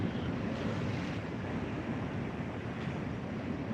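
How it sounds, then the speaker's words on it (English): Rough ocean waves break over rocks just offshore, making a constant heavy wash and rumble with wind buffeting the microphone and no voices. "just off the edge where these waves are breaking"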